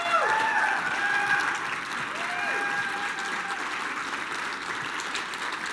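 Audience at a Medicare sales keynote claps and cheers for a four-person team, loud dense applause with rising whoops and whistles early on, easing slightly but holding steady throughout, with faint voices mixed in.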